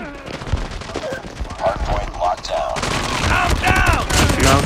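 Rapid automatic gunfire from a sentry gun in a Call of Duty match rattles loudly and steadily, mixed with other game effects, while someone talks excitedly over it.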